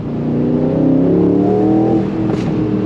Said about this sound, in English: you're definitely gonna get up to speed with that twin turbo V8